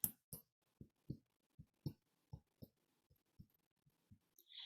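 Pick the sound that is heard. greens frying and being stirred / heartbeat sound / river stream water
heartbeat sound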